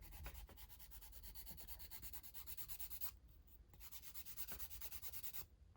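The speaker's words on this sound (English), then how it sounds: "I'm gonna take my nail filer that I buff my nails with, and I'm just going to buff my nail." A nail file buffs a fingernail with quick, rhythmic scratchy rubbing strokes, close and quiet, pausing briefly midway before resuming.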